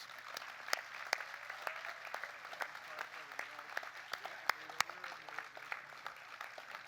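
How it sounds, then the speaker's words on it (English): An outdoor rally audience applauds its speakers, a faint, scattered spread of individual claps with sharper pops standing out, continuing for several seconds at a distance. "One more round of applause, please, for all of our speakers."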